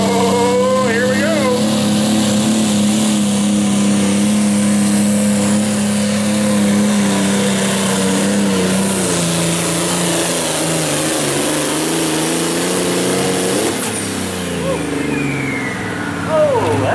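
A 6,700 lb light limited super stock tractor roars at full power during a tractor pull in Springville, Iowa, a loud, sustained engine drone that fades toward the end while an announcer talks over it.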